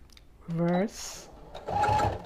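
A sewing machine runs short, close bursts of stitching across the end of an elastic casing on a baby pillowcase dress, with a voice speaking briefly between the runs.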